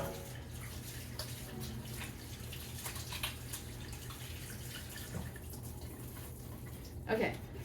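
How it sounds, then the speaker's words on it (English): Hands are washed under a running tap, a faint continuous water flow with drips and splashes, overlaid by someone talking. "I gotta mix this up with my hands. So let me wash them real quick"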